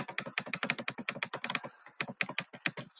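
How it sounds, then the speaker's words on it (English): Rapid, irregular clicking of buttons while playing an airplane video game, a dense run of sharp taps that comes fast and close, with brief gaps between bursts and no talk. "I'm like clicking every button."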